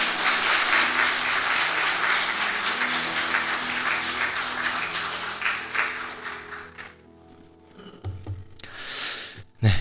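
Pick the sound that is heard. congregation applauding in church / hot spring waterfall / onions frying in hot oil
congregation applauding in church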